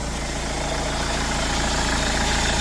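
A car engine idles right after starting, a steady, close, even rumble that holds unchanged throughout with no voices.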